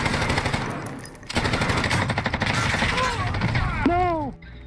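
Rapid automatic gunfire in the video game Call of Duty: Black Ops Cold War, loud and close in dense bursts, with a brief gap before the firing resumes and some voices and game sounds mixed in.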